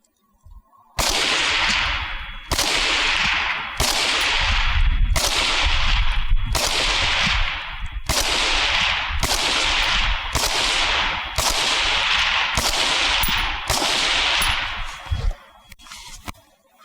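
About eleven sharp rifle shots crack one after another at an even, unhurried pace, each with a short ringing decay.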